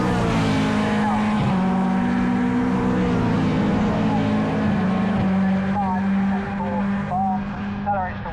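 Caterham race cars howl around a circuit as they accelerate away from a corner, a close pack of engines droning loudly and continuously with rising and falling revs, and race commentary over the top.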